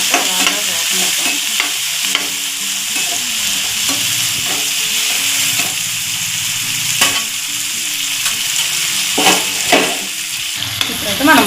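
Egg curry masala with tomato pieces fries in a pan, a continuous crackling sizzle broken by repeated scrapes and knocks of a spoon stirring through it, close and fairly loud.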